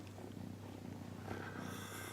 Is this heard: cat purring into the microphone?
yes